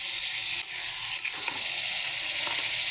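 Fish pieces go into a spice masala sizzling in oil, producing a loud, continuous hiss with a few soft thuds and scrapes as they land, close and without talk.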